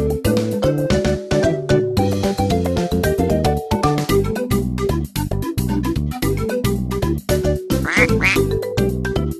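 Loud, repeated duck quacks in a quick, steady series, set against bright, bouncy background music.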